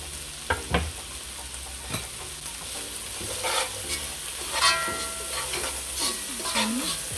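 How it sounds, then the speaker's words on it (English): A pot of quick red beans and rice being stirred after crushed allspice berries go in, with a steady sizzle and frying hiss under repeated scraping strokes of a spoon, close up and with no voices. "I'm just going to toss that in and mix everything together."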